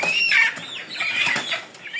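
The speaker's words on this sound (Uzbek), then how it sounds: "Jo'jalarni yuklayapmiz." Day-old chicks chirp in a dense, high-pitched chorus while being loaded for delivery, continuous and fairly close throughout, with no talk over them.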